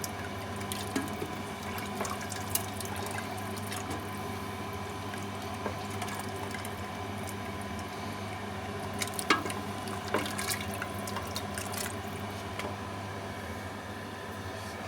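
A pot of water heats on the stove for cooking dried beans, giving a low steady bubbling hiss with scattered faint pops and clicks, constant and moderately quiet throughout.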